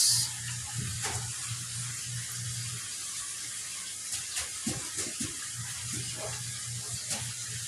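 Water runs steadily into a small fish pond tank with a constant splashing rush, a low hum underneath and a few faint knocks and clunks.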